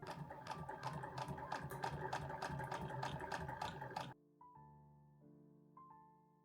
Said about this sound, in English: mark a triangle shape that's 1 inch wide and 2 inches tall and sew along that line.